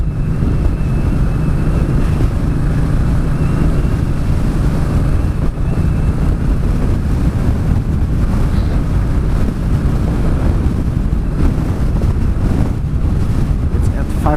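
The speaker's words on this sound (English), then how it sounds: "It is a lot of wind. I'm not sure if the microphone is picking up the wind on the helmet, but it is a lot." Heavy, roaring wind buffets a helmet microphone during a motorcycle ride in blustery weather, a loud constant rumble throughout with no clear talk.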